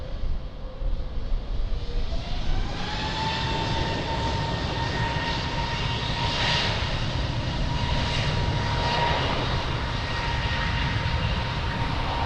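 An airliner takes off from runway 02 at Lisbon Airport, its engines spooling into a loud, sustained roar with a rising whine as it accelerates down the runway, heard steadily without speech.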